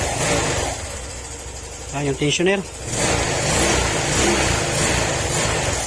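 Honda Click scooter engine running rough with a fault near a loose spark plug cap, a steady close mechanical hum throughout with someone speaking briefly over it midway.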